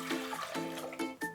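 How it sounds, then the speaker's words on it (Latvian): Water poured from a container into a bowl for focaccia dough, a close, gurgling, splashy stream lasting about a second with no talk. "Es ieliešu ūdeni"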